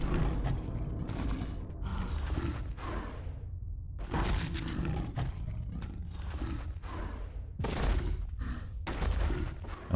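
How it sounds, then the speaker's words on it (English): Creepy movement overhead in a Fallout 4 basement, with something dragging a body away: rumbling, creaking drags and thuds in repeated bursts, fairly loud and close, with no talking. "And we see something drag a body away"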